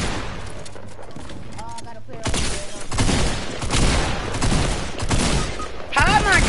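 Rapid bursts of gunfire crackle in a shooter video game, loud and close, in clustered volleys after a quieter opening, with players talking over the shots.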